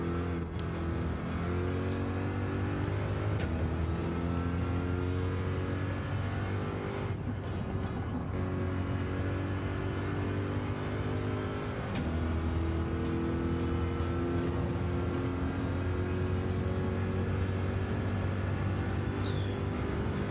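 A Ferrari 458 in a racing video game drones steadily, its engine note climbing through the gears, easing briefly, then rising again, loud and continuous.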